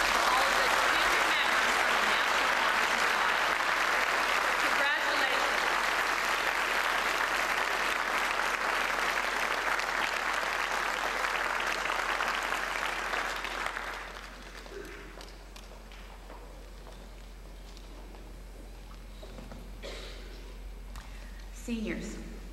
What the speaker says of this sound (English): Could we please have a round of applause?